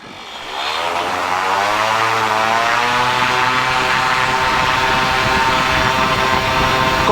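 Propeller aircraft engine at full takeoff power, a loud steady roar rising in the first half-second and then holding strong and close with no let-up, its harmonic engine tones sweeping slightly as the plane accelerates; no one speaks.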